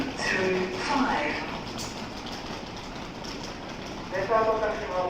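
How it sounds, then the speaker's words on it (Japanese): A Tokaido Shinkansen N700A Hikari train, set G14, pulls into track 5 at Hamamatsu station with a constant, heavy rumble. Platform announcements in a clear voice play over the noise throughout. "516 bound for Tokyo is arriving at track number 5"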